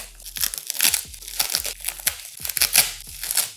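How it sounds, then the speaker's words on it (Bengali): Plastic wrap and packaging for a 20000mAh 22.5W power bank crinkle and tear in irregular bursts while being unpacked, close and fairly loud, with no talking. "এখন আমাদের কাজ হচ্ছে এই প্যাকেজিংটাকে আনপ্যাক করা"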